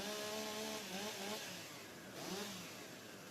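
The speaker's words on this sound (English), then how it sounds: "Okay, gentlemen, warm up your saws." Chainsaws warming up before a STIHL Timbersports Rookie World Championship race fill the air with a continuous loud, buzzing engine whine, the revs rising and falling as several saws run at once.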